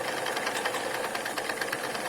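A Cheddar Proteus live steam engine runs a restored pump, producing a fast, steady, even chuffing and ticking rhythm with a broad hiss, loud and close, with no voices.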